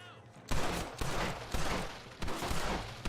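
Rapid gunfire in Red Dead Redemption, several loud close bursts of shots in quick succession after a brief quiet start.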